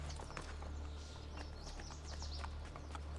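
Horse hooves clatter while riding through a crowded town in Assassin's Creed Brotherhood, as a steady run of clip-clops under a constant low hum, with faint bird chirps in the background.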